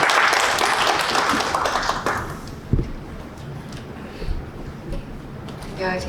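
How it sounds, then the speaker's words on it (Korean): Audience at a Korean literary award ceremony applauding briefly as a speaker comes forward, loud clapping fading out after about two seconds into quiet room noise with a few taps and footsteps. "나오실 때 박수 부탁드립니다."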